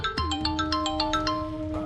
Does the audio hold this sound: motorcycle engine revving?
no